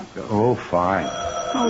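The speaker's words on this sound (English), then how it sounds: "Gee whiz, that's our phone." In a vintage radio drama, a telephone bell rings in short bursts around which voices speak close up, the ringing partly overlapped by the dialogue.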